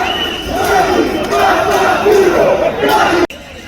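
A massive protest crowd in Italy chants against Mario Draghi, a loud, dense mass of voices in rhythmic rising and falling shouts, cut off abruptly near the end.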